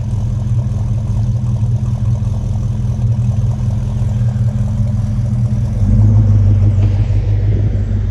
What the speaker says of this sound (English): Man, that exhaust sounds fantastic.